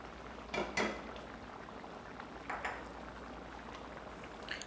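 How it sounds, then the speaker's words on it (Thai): Red curry with green papaya simmering in a pot, a low steady bubbling bed with a few louder clinks and bursts near the start and middle, fairly quiet and close, no talk. "รอจนมะละกอเริ่มสุกนะครับ"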